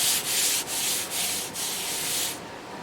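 Rhythmic hand sanding on the wooden body of a 1927 Harmony Lindbergh guitar, with about five close, steady rasping strokes before the rubbing stops.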